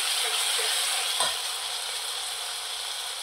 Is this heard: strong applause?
no